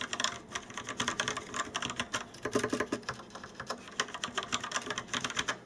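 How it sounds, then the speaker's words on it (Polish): Rapid typing on a Rapoo V500 compact mechanical keyboard with Yellow switches: dense, clacky keystrokes in quick, uneven bursts, close and clear with no talking. "Jak to w klawiaturach mechanicznych, przełączniki i klawisze do cichych nie należą."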